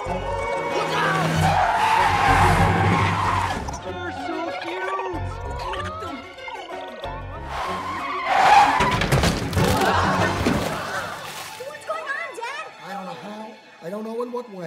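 Animated cars skidding and braking hard in busy traffic, with loud tire screeches and thuds over a dense, chaotic mix of voices shouting and music throughout.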